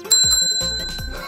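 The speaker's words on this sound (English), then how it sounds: "A bell! Listen!" A bicycle bell rings sharply and close in a few quick bright dings, with soft thumps and handling noises around it.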